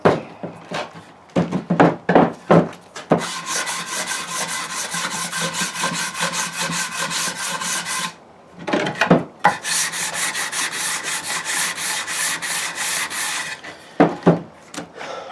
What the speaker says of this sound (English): And again, let's take some sandpaper up here.